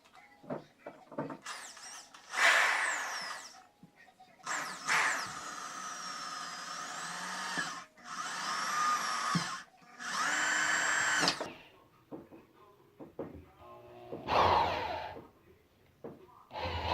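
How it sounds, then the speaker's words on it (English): Power drill boring a hole for a radiator fan switch install, in repeated bursts of whining spin, close and fairly loud, separated by short pauses. "So let's go ahead and drill that out"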